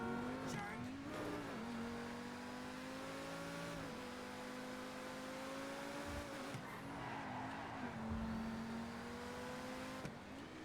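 A McLaren hypercar in GTA 5 revs and accelerates, its engine pitch climbing and dropping repeatedly through several shifts, moderately loud with faint tire noise and no talk.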